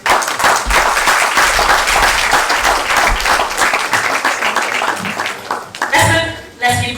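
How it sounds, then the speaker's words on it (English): Audience applause at a stage drama performance, a sustained wash of clapping from a crowd, fairly loud and continuous, with voices heard over it before it thins near the end. "Let's keep clapping. A round of applause."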